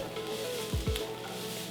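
Yellow onion sizzles in hot olive oil in a pan: a soft, steady frying hiss throughout, broken by a couple of quick stirring scrapes.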